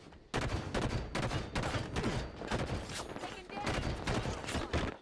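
Rapid gunfire in Halo 5 multiplayer, a SWAT match, comes in repeated close bursts of rifle shots with brief gaps between them, moderately loud and steady.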